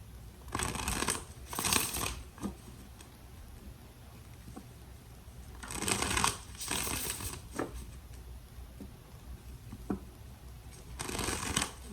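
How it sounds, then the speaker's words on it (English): Tarot cards being shuffled in three separate bursts of riffling, close up, with quiet handling noises in the gaps between. "Three shuffles for Gemini."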